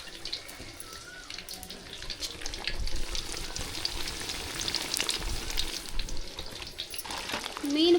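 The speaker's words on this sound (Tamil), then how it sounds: "குழம்பு நல்லா கொதிஞ்சிருச்சு மீன் அள்ளி போடலாம்" Fish pieces drop into a pot of boiling fish curry and get stirred, with a steady bubbling and sizzling simmer, soft scraping of the spoon, and a louder splash near the end.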